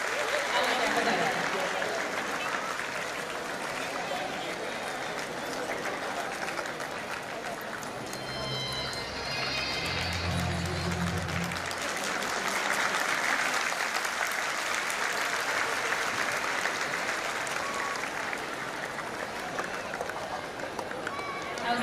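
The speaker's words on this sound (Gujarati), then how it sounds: "જોરદાર તાળીઓના ગડગડાટથી પધારી રહ્યા છે" A crowd gives loud, sustained applause as the mayor of Surat arrives at a community gathering, with clapping continuing throughout while a voice speaks over it.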